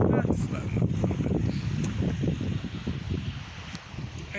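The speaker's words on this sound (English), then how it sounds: "It's getting way too windy right now." Strong outdoor wind buffets the microphone in a loud, continuous low rumble with gusty swells throughout.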